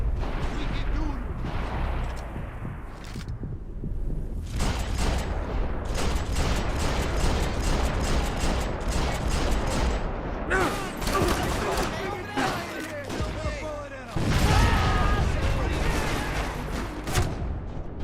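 Heavy gunfire in the video game Max Payne 3, dense rapid volleys of shots and booms crackling nearly nonstop for the whole stretch, loud and close, with brief lulls between bursts.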